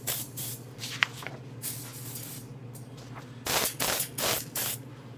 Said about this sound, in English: we're going to spray a light coat of lacquer